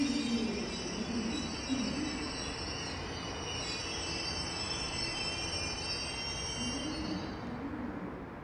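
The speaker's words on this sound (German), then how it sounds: "Der ICE 507 Hamburg-München läuft in den Bahnhof Südkreuz in Berlin ein." An ICE 4 high-speed train running as ICE 507 from Hamburg to Munich rolls into Berlin Südkreuz station, wheels and brakes squealing steadily at moderate distance under a continuous rolling rumble, with no voices.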